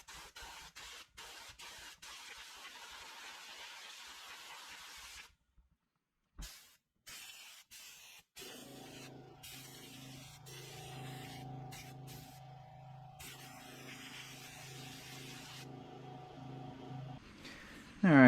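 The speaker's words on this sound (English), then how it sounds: "I'm gonna blow with a little shop air far away from it" Compressed shop air hisses steadily through a reusable K&N cabin filter held several inches from the nozzle, a continuous broadband spray broken by short bursts and pauses, with a low mechanical hum joining later.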